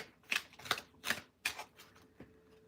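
Tarot cards being shuffled close up: five crisp papery riffle bursts in an uneven rhythm, each a short rustling flutter, with quiet pauses between and no talking.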